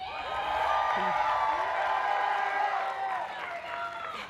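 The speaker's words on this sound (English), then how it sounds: "Y'all like to cheer." Audience at the 2025 LMU Kente graduation ceremony cheering and whooping in a loud, sustained crowd roar with raised voices throughout.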